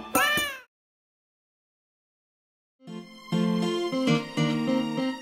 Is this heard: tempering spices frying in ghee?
no